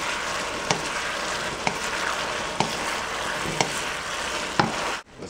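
General Tso's chicken frying in a pan with the burner just shut off, a steady sizzle throughout while a utensil stirs it, with a few sharp scraping clicks at regular intervals before a sudden stop.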